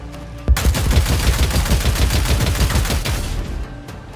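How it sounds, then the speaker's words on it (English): Loud rapid-fire gunshots in the video game Warhammer 40,000: Dark Heresy start abruptly after a brief pause, then rattle on in a steady, dense burst for about three seconds before cutting off. "So let's do rapid fire."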